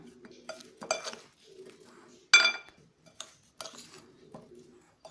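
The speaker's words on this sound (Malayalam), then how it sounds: "നെല്ലിക്കയും ഈ പൊടിയും കൂടെ നമുക്ക് നന്നായിട്ട് മിക്സ് ചെയ്തെടുക്കാം." Gooseberries being mixed with pickle spice powder in a bowl for Kerala-style nellikka achar, giving a few scattered clinks and scrapes of a spoon against the bowl, close and fairly quiet, with pauses and a low steady hum beneath.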